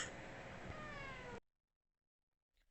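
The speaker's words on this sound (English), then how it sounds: "I was rudely interrupted by a cat, Walter." A cat meows loudly and continuously for over a second, a long drawn-out vocal cry up close, then cuts off into near silence with a faint sound at the very end.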